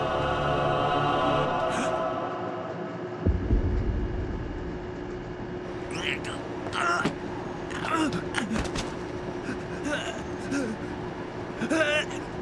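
A steady, low rumble of a moving train from a Death Note anime scene carries on under spoken voices, with scattered sharper clicks and knocks.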